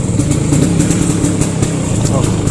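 Vespa Excel 150 scooter from 2004 sputtering with its fuel tap left off, a loud close engine putter with rapid uneven pulses and stuttering beats, with a person talking over it.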